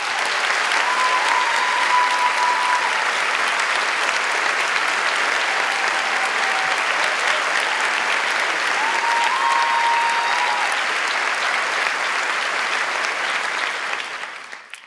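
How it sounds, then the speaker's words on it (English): A large crowd gives a sustained round of applause at a spring undergraduate commencement ceremony. The dense, even clapping holds strongly for about fourteen seconds before fading at the end. "So can we give her a round of applause,"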